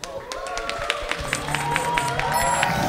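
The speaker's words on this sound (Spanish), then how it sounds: "fuerte el aplauso" A live crowd at a band performance claps and cheers for the group in a brief, energetic burst, with scattered sharp claps over a busy background of voices and noise.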